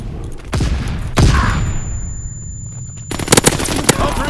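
Automatic gunfire bursts in the World War II shooter Call of Duty WW2 during team deathmatch play, rapid loud volleys starting around half a second in and returning in a dense cluster near the end, with game radio voices between.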